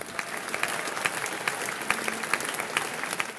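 Opera house audience in Nice applauding the ballet, choir and orchestra artists, a loud, sustained crowd of clapping hands with distinct sharp claps standing out in a regular rhythm.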